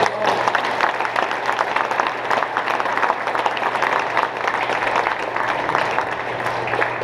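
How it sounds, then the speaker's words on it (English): Sustained applause from an audience for a squadron band, a dense, steady wash of many hands clapping at an even level throughout, with a low steady hum underneath. "So let's give them another round of applause."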